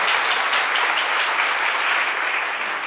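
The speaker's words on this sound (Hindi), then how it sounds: "मैं चाहूंगा एक बार नारी शक्ति के लिए जोरदार ताली होना चाहिए" A steady wash of dense clapping fills a network marketing seminar hall, a large audience applauding loudly and continuously, tapering slightly at the end with no speech over it.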